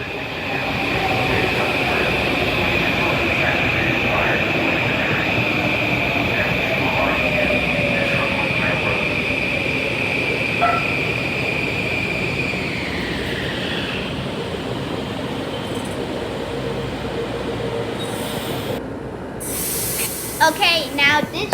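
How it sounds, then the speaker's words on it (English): A passenger train bound for Stanford pulls into a station, its steady loud rumble and high whining hum holding for many seconds, then the tone dropping as it slows, ending with a sharp hiss and clanks. "we saw a train to Stanford approaching station to pick up more passengers"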